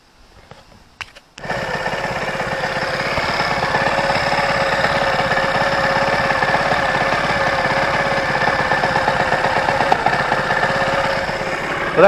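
A Zontes Tiger Chinese 125cc motorcycle, its carburettor just refitted after a leak, starts up and then idles steadily with an even, close, continuous putter that holds alone to the end.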